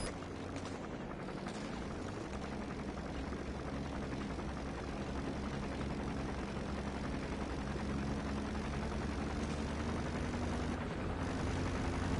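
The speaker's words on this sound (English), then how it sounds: "There's a chopper landing." A helicopter lands in the video game Metal Gear Solid V: The Phantom Pain, its rotor and engine drone a steady, sustained hum that stays level and fairly loud for the whole stretch, with no voices over it.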